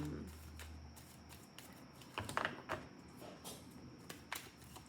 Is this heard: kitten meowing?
no